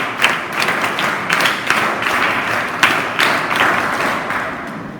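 Scout and guide participants at a training camp inauguration ceremony perform a rhythmic group clap, patterned bursts of claps and thumps repeating in a structured cadence, loud and close.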